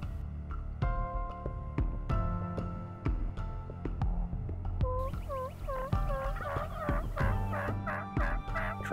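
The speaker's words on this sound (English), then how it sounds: "heard a couple of gobbles back over in the hardwoods" Repeated Eastern wild turkey gobbles ring out in rapid, warbling bursts over a steady thumping rhythm, growing busier toward the end, in Georgia hardwoods.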